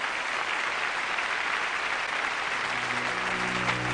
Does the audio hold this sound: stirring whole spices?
no